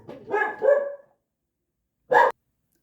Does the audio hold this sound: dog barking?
yes